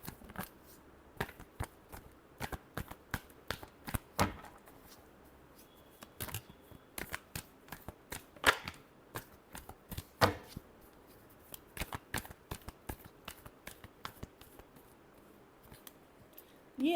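Tarot cards are shuffled close up in quick, irregular bursts of crisp riffling and slapping, each burst separated by brief pauses. The sound is faint overall and there is no talking.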